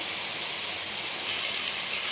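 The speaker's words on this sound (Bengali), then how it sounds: "এদিকে ঝিঙেটা ভাজা হচ্ছে" Ridge gourd frying in a pan, a steady broadband sizzle and hiss of hot oil that grows slightly louder midway, continuous and close with no talk.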